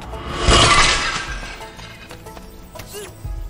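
Objects smashing and shattering in the video game Goat Simulator 3, a loud crash of breaking debris peaking early, then scattered smaller clatters and knocks trailing off.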